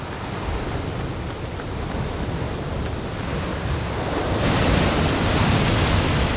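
A rushing waterfall torrent in Scotland pours in a dense, steady roar that swells louder near the end, with a few faint high chirps of birds above the water.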